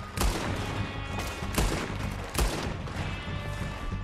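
Gunfire in the Red Dead Redemption 2 video game: three sharp shots spaced out over a few seconds, standing out above a dense, busy game background with no talk.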